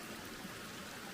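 Creek water at a woodland crossing on a hiking trail, a steady soft trickle and babble running without a break, fairly faint, with no voices.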